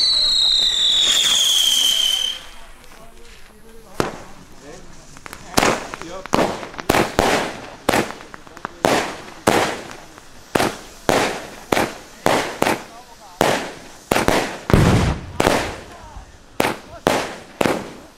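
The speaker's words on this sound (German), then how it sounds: "Als nächstes folgt die 16-Schuss-Batterie Kalimbo." A 16-shot Kalimbo firework battery fires sixteen loud bangs in a steady rhythm after an opening whistling launch, each shot crackling sharply, on a street on New Year's Eve, with voices faintly in the background.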